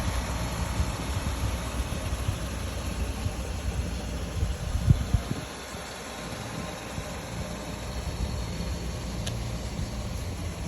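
A 1986 Mercedes-Benz 420SEL V8 idles steadily after a cold start on a chilly day, a low, even rumble with a faint hiss, heard alone at moderate distance with a brief dip midway.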